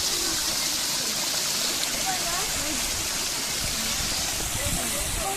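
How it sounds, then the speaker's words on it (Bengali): Water rushes down an artificial hill waterfall at the Hazarduari museum in Murshidabad, a constant close hiss of splashing flow with faint background sounds mixed in. "গাইস পাহাড়ের ঝর্ণার জল গাইস,"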